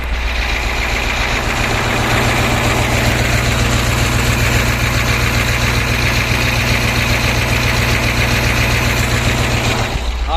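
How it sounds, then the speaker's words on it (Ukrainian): A heavy diesel engine of a KAMAZ 55102 truck idles loudly and steadily nearby after repair, a continuous low rumble with a rhythmic mechanical clatter throughout. "гарно мотор робить."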